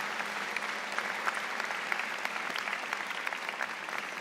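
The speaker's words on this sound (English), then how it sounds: "please join me in a round of applause for all those people who helped get you to" Sustained audience applause at a university convocation ceremony, a steady wash of many hands clapping at moderate distance for the whole stretch, with no voices standing out.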